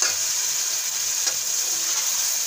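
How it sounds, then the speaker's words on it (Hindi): Garlic-ginger paste frying with tomatoes in oil for chicken karahi, a steady close sizzle with stirring throughout, no talking. "2 टेबल स्पून लहसुन और अदरक का पेस्ट डाल दिया। अब इसे अच्छी तरह से फ्राई करेंगे।"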